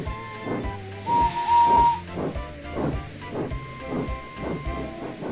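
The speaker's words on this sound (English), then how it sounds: "with a toot of his whistle he departed" A steam locomotive chuffs in a steady rhythm, hissing, and a short whistle toot sounds near the start as it departs, close and fairly loud.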